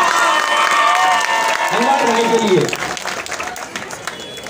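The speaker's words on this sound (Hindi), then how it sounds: "हाजी अनवार साहब, जोरदार तालियों से स्वागत" A crowd applauds and cheers loudly to welcome Haji Anwar at a community gathering, the clapping fading out over a few seconds while an announcer speaks over it.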